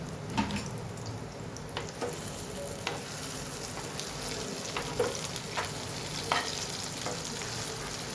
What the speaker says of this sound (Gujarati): બધી પેટીસ સરસ સેલો ફ્રાય કરી દઈએ.